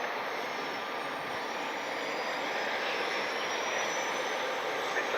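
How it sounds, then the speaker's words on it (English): Jet engines of a United Express Embraer E175 operated by Mesa Airlines at Cleveland Hopkins airport at night, a steady broadband roar with a faint rising whine, constant and fairly close throughout. "United Express 6149 E175, operated by Mesa Airlines,"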